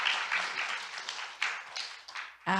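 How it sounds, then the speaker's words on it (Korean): An audience claps at the 2025 LTI Korea global literature forum, a steady patter of applause from a moderately sized crowd that fades before a voice speaks at the end. "다시 한번 큰 박수로 감사 인사드리겠습니다."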